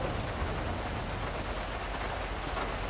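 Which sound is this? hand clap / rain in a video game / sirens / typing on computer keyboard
rain in a video game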